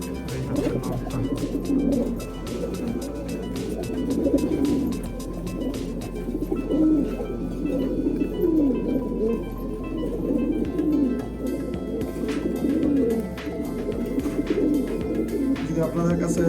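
Pigeons, a paired male and female, coo repeatedly at close range in soft, rolling phrases that continue throughout, with occasional faint chirps and clicks in the background.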